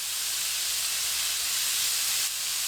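Meat browning in a pan gives a steady, even hiss of sizzling fat, close and continuous with no talking.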